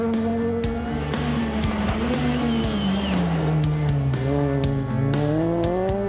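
A Renault Twingo rally car screams along a special stage at the Rallye du Var, its engine loud and close, pitch rising and falling through gear changes and lifts, with no talk over it.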